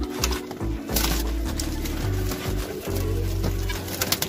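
Racing pigeons, males kept in a loft, coo steadily in deep rolling calls for several seconds, close and fairly loud, with overlapping birds and no talk.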